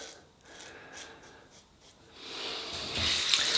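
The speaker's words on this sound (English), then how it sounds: "rinse with cold water" Cold tap water running into a sink for rinsing after a wet shave with a Merkur Futur safety razor, starting soft and swelling into a louder, steady hiss of flow near the end.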